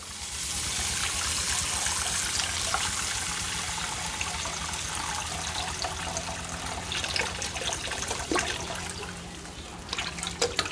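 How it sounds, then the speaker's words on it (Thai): Water is poured into a pot of fried curry paste for a Thai fish curry with pickled bamboo shoots, giving a steady trickling, splashing pour over about ten seconds, fairly close, with no talk. "ผมจะเติมน้ำ ปริมาณน้ำก็คือกะจากปริมาณปลาของเราครับ"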